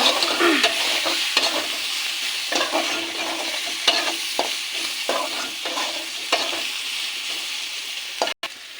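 Banana paste with turmeric being stirred and fried in a pan, steady sizzle under repeated scraping strokes of the spoon, close and fairly loud with no talking.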